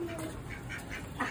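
A large duck quacking nearby during a move into a cage, a few short nasal calls against a faint background, with indistinct voices present.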